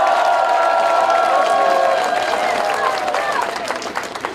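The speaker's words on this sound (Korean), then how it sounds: "여러분 박수 크게 한번 보내주세요." Crowd applause and cheering at a Korean political rally, loud sustained clapping with shouts and whistles layered over a dense crowd, gradually thinning toward the end.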